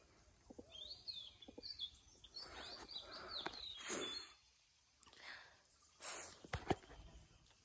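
Birds chirp and call in quiet rural surroundings, short faint tweets and trills scattered across a hushed background, with occasional louder bursts.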